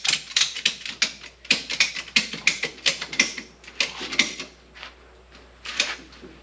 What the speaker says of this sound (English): So you just take the ratchet.